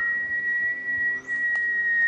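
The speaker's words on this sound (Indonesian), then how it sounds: "Kalian denger gak suara siulan itu?" Loud whistling holds one steady high pitch throughout, piercing and continuous with a brief dip midway and faint background noise.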